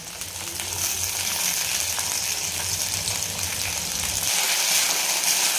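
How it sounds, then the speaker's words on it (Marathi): Potatoes fry in hot oil in a pan for sabudana khichdi, giving a continuous broad sizzling hiss at moderate loudness without speech. "तर हे बटाटे टाकल्यानंतर छान आपल्याला तेलामध्ये परतून घ्यायचे आहेत"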